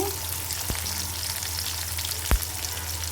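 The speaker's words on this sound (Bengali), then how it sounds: "আমি প্রথমে এই তেলের মধ্যে রসুন দিয়ে দিতেছি আর দিয়ে দিতেছি পেঁয়াজ কুচি" Garlic and chopped onion fry in oil in a wok with a steady, even sizzle, broken by two brief sharp clinks of a utensil.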